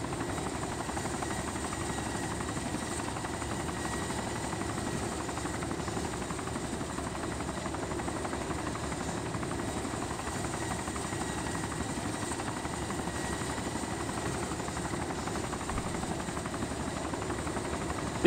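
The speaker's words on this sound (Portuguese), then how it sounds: "Pera aí, tem um helicóptero em cima da gente." A helicopter passes overhead in the video game DayZ Origins, its low steady rotor drone continuous and fairly faint throughout with no voices over it.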